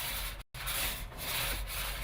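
A paint roller applies a dull black, non-reflective coating to a part of an old Clark telescope under restoration, giving a steady close soft rubbing hiss broken by one very brief gap.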